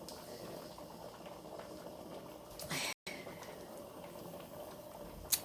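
A pressure canner holds a steady rushing boil on a stovetop while chicken legs and thighs are canned, with a brief louder hiss and a small click toward the end.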